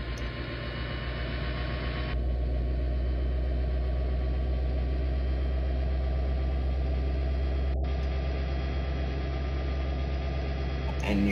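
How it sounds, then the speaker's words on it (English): An Amtrak-style P42 Genesis diesel locomotive in a train simulator game hums with a steady, droning engine note that steps up louder and fuller after a couple of seconds as the throttle notches up, then holds evenly. "But I'll do an engine rev up, combined throttle and dynamic brake"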